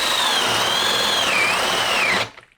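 A 20 volt cordless drill boring with a spade bit, a steady loud motor whine with a wavering pitch that cuts off abruptly when the drill stops, close and alone with no voices.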